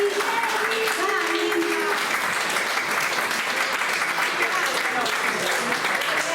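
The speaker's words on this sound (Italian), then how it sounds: "così vi facciamo un bel applauso" An audience applauds steadily and loudly throughout, a dense, continuous wash of clapping at an Italian public event, with faint voices mixed in at the start.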